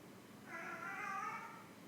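A house cat meows in a drawn-out, wavering call for about a second and a half, moderately near against a quiet indoor room during a gentle yoga practice.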